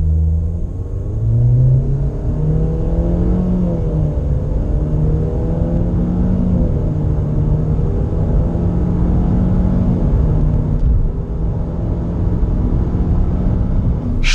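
A Renault Logan Stepway with a CVT gearbox accelerating at full throttle from inside the cabin, a loud steady engine drone that climbs in pitch early, then holds a sustained high whirring roar, with no speech.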